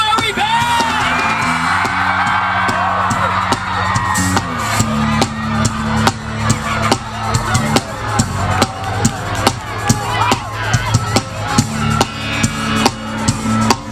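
A crowd yelling, whooping and cheering loudly at the arrival of a band, sustained shouts over a rhythmic pounding beat, with voices mixed through the din.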